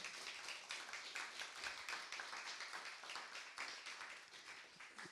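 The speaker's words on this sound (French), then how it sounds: "On peut applaudir." An audience at a lecture on Portuguese military architecture applauds in a sustained patter of many hands clapping, fairly faint and distant, holding steady for the full five seconds.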